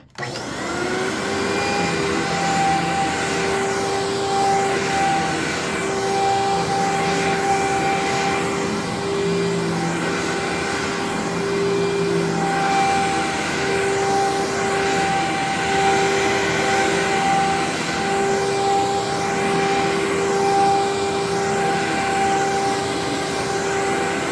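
An Amway ClearTrak vacuum cleaner runs steadily at close range, giving a loud, continuous whining motor drone with a constant pitch throughout and no talk.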